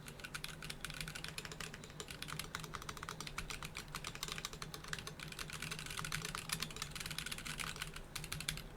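Typing on a KBDFans D45 mechanical keyboard, a quiet, fast, continuous run of close, crisp key clacks without talk.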